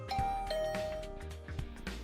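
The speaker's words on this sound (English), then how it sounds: "but I'll ring the bell anyway." A doorbell chimes in the video game The Hundred Line, a clear sustained tone ringing out and fading amid soft background music, with no voices.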